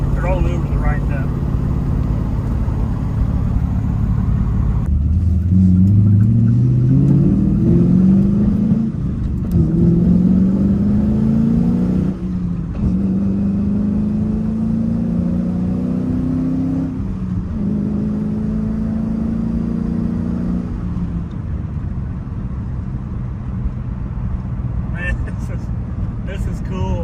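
A 1999 Chevrolet Camaro SS with a stick shift and aftermarket exhaust revs and accelerates up through the gears, its engine note climbing in pitch in repeated sweeps. Someone talks over it at times.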